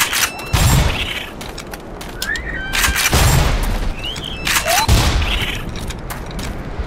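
Secondary-fire explosions from a weapon in the video game Black Mesa, several heavy booms with sharp bursts and whooshing tails spaced a couple of seconds apart, loud and close amid other game effects.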